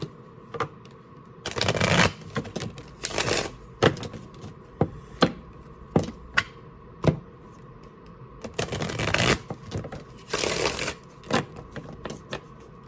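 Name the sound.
shuffling tarot cards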